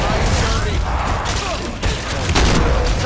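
Gunfire bursts in Evil Dead: The Game ring out in a dense, continuous fusillade of booming shots under a loud, busy game mix with voices talking over it.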